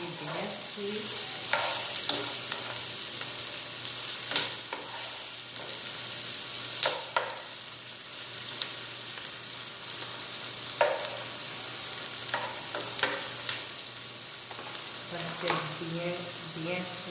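Smoked calabresa sausage frying in a pan and stirred with a wooden spoon, a soft continuous sizzle broken by occasional scraping and stirring clatter, with a faint low hum throughout.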